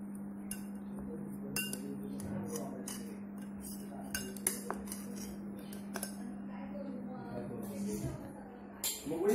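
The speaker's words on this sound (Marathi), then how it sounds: "आणि हे मी असं ढवळणार आहे मिश्रण" A spoon stirs an amla (Indian gooseberry) juice mixture in a glass, making scattered light clinks and taps at an uneven rhythm over a steady low hum, faint and close.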